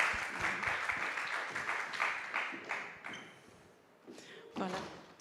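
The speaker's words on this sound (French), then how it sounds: "les applaudissements aussi pour les premiers films" Applause from a seated audience after the first films are shown at a round-table event, a dense patter of clapping that swells and fades over several seconds with a short burst near the end.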